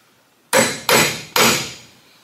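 Three sharp metallic hammer blows strike a punch to make a centre indentation in a broken bolt, each ringing briefly, close and loud, spaced unevenly in a quiet room.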